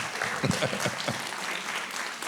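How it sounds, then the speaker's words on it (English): Audience applause after a pre-concert conversation at a classical music event, a short burst of clapping with voices briefly audible over it. "I think he deserves a round of applause"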